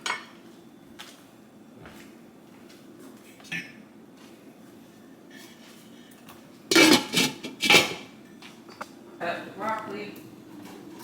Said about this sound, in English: So I'm gonna go ahead and put the top on and let it